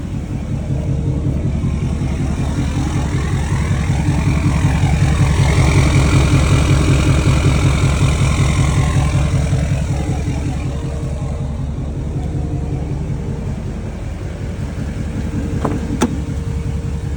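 A lifted 2016 Duramax 2500 Z71 diesel pickup with full exhaust, tuned and deleted, idles steadily after a cold start, a loud, even low rumble with a rapid pulsing clatter that holds throughout.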